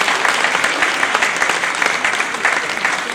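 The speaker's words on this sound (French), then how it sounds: "Sous vos applaudissements." Steady audience applause from a crowd at an association's inauguration ceremony, dense clapping that holds at an even level throughout with no break.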